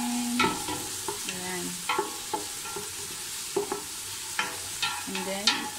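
Onion and beef frying in oil in a pot for a Lebanese beef and bean stew, a steady sizzle with repeated scraping stirs of a utensil, close up, with a brief spoken word.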